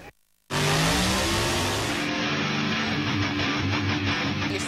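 A high-performance race car engine bursts in after a brief silence with a loud, sustained roaring rev that holds steady at full volume to the end.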